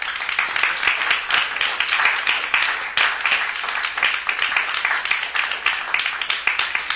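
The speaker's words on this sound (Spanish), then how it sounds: "les pido un aplauso para nuestro expositor y comentarista" Audience applause at a seminar lecture, a steady dense wash of many hands clapping that holds evenly for several seconds with no voices over it.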